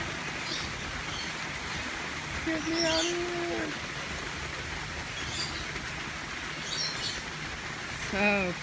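A bird calls at Coral World in St Thomas, US Virgin Islands, with a few short whistled notes over steady rain-like background noise.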